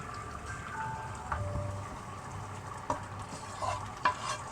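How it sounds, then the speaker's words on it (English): Vegetables sizzle softly in butter in a pan, with a few utensil scrapes and clicks as they're stirred, quiet and up close. "So the veg has been frying off in butter as well."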